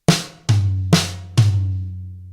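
Four eighth-note hits alternating between snare drum and rack tom in a rock-style solo, sharp cracks followed by resonant, low tom ringing that sustains and decays after the last stroke, close and alone.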